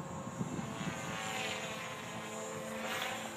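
Kyle X3 electric RC helicopter hovering at a rotary-wing flying event, a steady whining rotor and motor drone that is moderately distant and holds constant for the whole stretch, with no talk over it.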